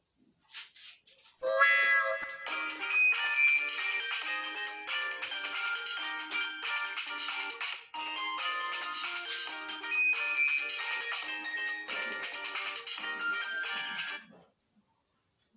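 A mobile phone ringtone plays loudly and continuously for about twelve seconds, a bright repeating electronic melody that starts abruptly after a short lead-in and stops cleanly, with no talking over it.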